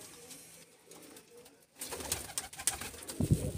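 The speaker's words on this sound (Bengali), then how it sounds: "এই পায়রাগুলো দেখছেন" Dasu breed pigeons coo in a loft, soft low calls building up after a quiet start amid fluttering and shuffling sounds nearby.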